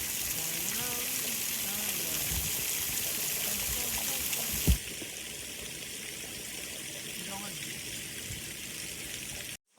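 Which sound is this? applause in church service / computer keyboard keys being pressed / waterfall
waterfall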